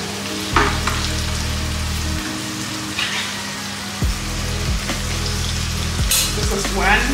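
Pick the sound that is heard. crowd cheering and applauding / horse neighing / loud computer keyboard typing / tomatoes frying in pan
tomatoes frying in pan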